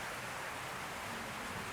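Light rain falls steadily at a farm, a soft continuous hiss with no distinct drops standing out, fairly quiet and unbroken throughout.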